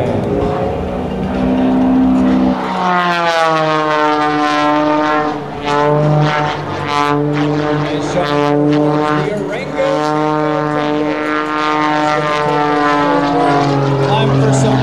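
An aerobatic propeller plane drones through an airshow routine, its engine tone steady and harmonic with shifting pitch, loud throughout under a continuous voice talking over the public address.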